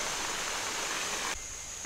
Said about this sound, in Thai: และนี่คือน้ำตกโปลาน